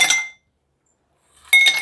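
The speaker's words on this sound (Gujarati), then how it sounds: "તો બરફ એડ કરીશું," Ice dropped into a glass while preparing raw mango sharbat: two bright, close clinks separated by a second of silence, with no voices.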